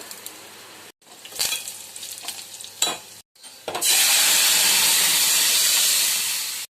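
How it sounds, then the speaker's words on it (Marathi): Cumin, finely chopped garlic, chilli, curry leaves and hing dropped into hot oil for a dal tempering, bursts of crackling sizzle between brief pauses, then a loud sustained hissing sizzle as everything is mixed, close and without talk. "तडतडते आता टाकूया जिरं आता लसूण बारीक बारीक करून घेतलेला आहे आता मिरची आता छान मिक्स करून घेऊया"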